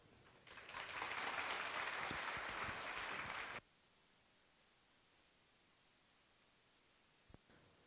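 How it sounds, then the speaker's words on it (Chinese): A conference audience claps warmly to welcome a speaker at MOPCON 2017: a dense, steady burst of applause that lasts about three seconds and then stops abruptly, followed by quiet room tone and one faint knock. "那我们就用热烈的掌声欢迎黄宇轩"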